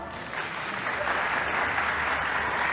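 Audience applause after an English school debate, a steady wash of many hands clapping that swells slightly after the start and holds evenly to the end.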